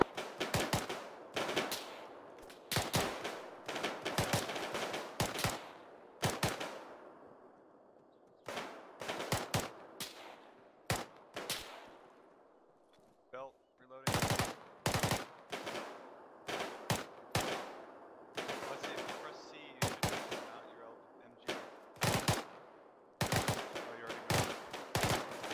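Automatic weapons rattle in the military shooter ARMA 3: sharp bursts of gunfire crack out one after another in a stop-start rhythm, loud and near, with short silent gaps between volleys and almost no talk.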